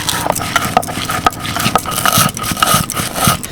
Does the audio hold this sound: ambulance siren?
no